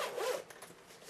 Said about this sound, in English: Dual zippers.